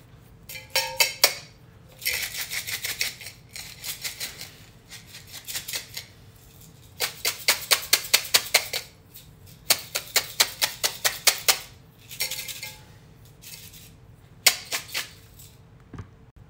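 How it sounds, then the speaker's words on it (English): A glass jar of bath salts mixed with orange oil is shaken in bursts, quick rhythmic rattling of coarse crystals against glass, close and crisp, separated by short pauses. "we're gonna shake that and mix it up as well as we can to get that oil"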